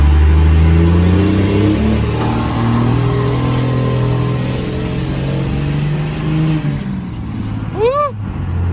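A pickup truck engine idling with a deep rumble, then revving up and easing off, close and loud throughout, with a brief rising whine near the end.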